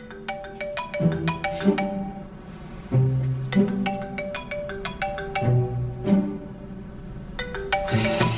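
A phone ringtone plays a bright, repeating electronic melody, loud and close, looping in short phrases with no voices over it.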